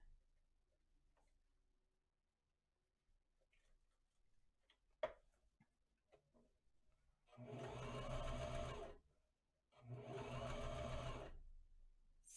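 A sewing machine stitches a fabric mask in two sustained runs of about two seconds each, separated by a short pause and preceded by quiet handling and a single sharp click.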